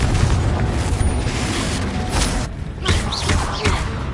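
Booming spell blasts from the Confringo curse in Hogwarts Legacy, played on PS5, hit loud and close one after another in a busy combat mix with no clear gap between them.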